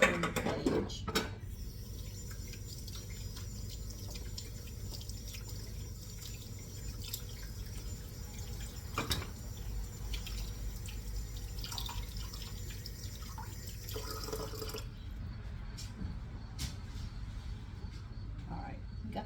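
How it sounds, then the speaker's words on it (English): Hands washed under a running kitchen tap while baking butterscotch rolls, a steady stream of water with drips and splashes, a brief clatter midway and a pause near the end. "I have to wash my hands"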